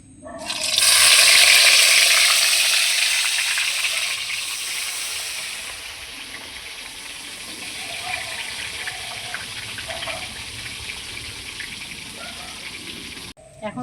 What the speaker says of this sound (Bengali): বেগুনগুলোকে তেলের মধ্যে দিয়ে ভেজে নেব।